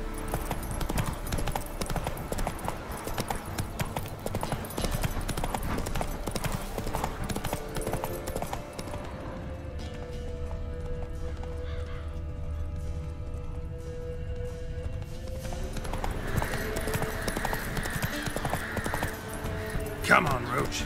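In The Witcher 3 video game, the horse Roach trots with rapid, rhythmic hoof clip-clops that continue throughout, mixed with game ambience and a voice speaking briefly.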